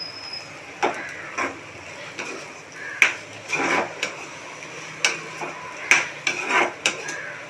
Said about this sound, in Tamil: இப்போ கிண்டி போடணும்.